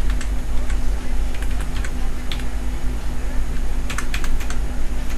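Computer keyboard typing as an NID number is entered, a run of quick irregular key clicks at close range over a steady low hum, with a person talking throughout.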